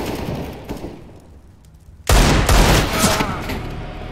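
Gunfire in the video game CS:GO breaks out as a sudden loud burst of rapid shots after a quieter stretch and keeps going in sustained volleys while a player talks.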